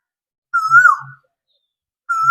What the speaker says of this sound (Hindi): देखिए मैं चुप हुआ और सुनिए कोयल की आवाज